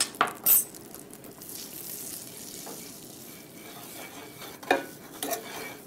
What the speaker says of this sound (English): I'm going to add 2 tablespoons of Wild Tree's cinnamon sugar blend and stir that around.